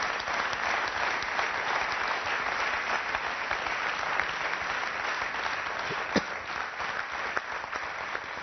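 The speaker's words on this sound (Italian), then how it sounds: "Un applauso." A studio audience at an Italian late-night TV show breaks into loud, sustained applause that holds steady throughout, dense clapping filling the room with a few sharper claps near the end.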